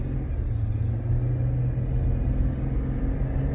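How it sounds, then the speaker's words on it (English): Steady low engine rumble and road noise from inside a car accelerating after a wheel bearing and wheel speed sensor harness replacement, a constant droning hum with no voices. "All right, got that wheel bearing changed, new wheel speed sensor harness. We're accelerating."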